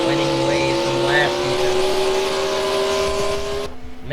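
Stock cars roar around the Bristol oval, engine drone layered under a commentator's voice, steady and loud for several seconds before dropping away suddenly near the end.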